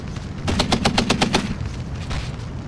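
Rapid burst of automatic machine gun fire from a half-track in a World War II strategy video game, about eight evenly spaced loud shots over a second, followed by a rumbling battle ambience.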